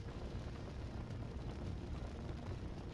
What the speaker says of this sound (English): Just endure the fire.